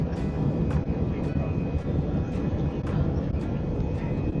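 Airliner rolling down the runway for takeoff, a steady loud engine roar with low rumble heard from inside the cabin, faint periodic clunks over the drone.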